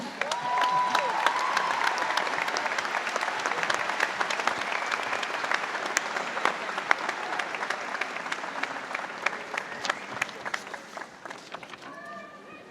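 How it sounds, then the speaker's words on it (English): A commencement crowd applauds in a sustained, dense wash of clapping with scattered cheers and calls mixed in, holding steady before thinning toward the end as a few sharper claps stand out. "A round of applause for these fine ladies and gentlemen."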